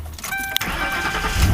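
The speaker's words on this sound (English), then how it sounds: "Let's go ahead, crank this thing up." Ford Crown Victoria engine cranking and catching, a brief whirring starter with a click and then the motor firing up into a loud, close rumble, with no talking.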